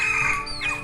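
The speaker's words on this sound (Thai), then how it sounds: "อ๋อคือไก่ป่าเลย" A jungle fowl in a remote mountain village gives brief, loud clucking calls close by against steady outdoor background sound.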